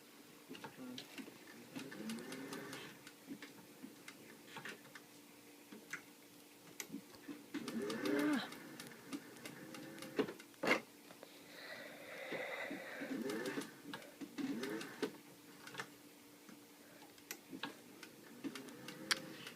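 Sewing machine stitching a wedding dress bodice close to a pinked zigzag edge, a quiet rapid ticking run of stitches with small pauses and a few louder clicks, faint and close.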